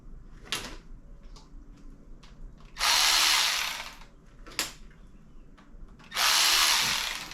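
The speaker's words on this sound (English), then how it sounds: "So we're taking the rockers out." Power tool pulling the rocker arms from a blown engine during an LS swap on an OBS truck, two loud bursts of whirring ratchet-like rattle separated by quieter shop clanks and taps.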